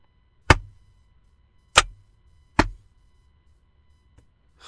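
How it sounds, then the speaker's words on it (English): A hand violently whacks a laptop screen to swat a bug inside a car: three sharp, isolated smacks spaced about a second apart, close and loud against near silence, with no talking. "That was me violently whacking my laptop screen"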